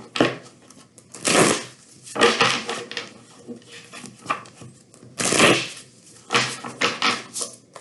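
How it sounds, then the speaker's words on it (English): A deck of tarot cards being riffle-shuffled several times in quick bursts, close and crisp, with short pauses between shuffles. "A couple more shuffles in here."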